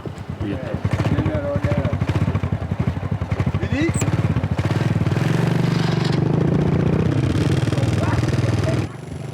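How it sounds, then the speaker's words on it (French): A motorcycle engine revs and putters with rapid regular pulses, then settles into a steady drone, near and loud throughout. "Yves se rend en moto avec Marc sur l'un des chantiers en cours."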